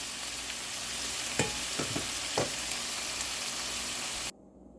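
Ground meat for a creamy ravioli bake browns in a hot pan, giving a steady close sizzle with a few scraping stirs near the middle before the sound cuts off abruptly.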